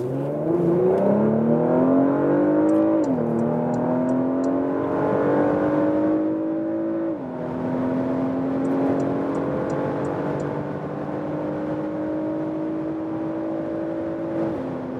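2022 Porsche Macan S with a 2.9-liter V6 pulling hard from low speed on a German motorway, engine note climbing steadily through two gear changes, a continuous strong interior drone with no talking.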